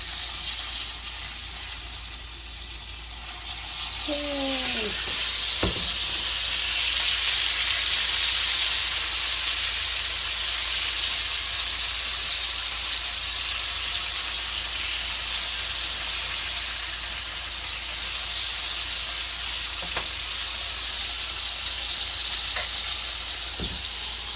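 Leche frita frying in fresh, new oil, a steady close hiss and crackle of sizzling that runs nearly unbroken, with a brief clink partway through.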